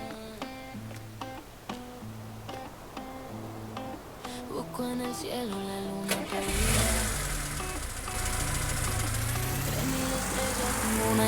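Car engine starting in the Farming Simulator video game: a few rhythmic tonal beeps and clicks, then a loud crank catching into a steady mid-pitched idle that rumbles close for several seconds, with no one talking.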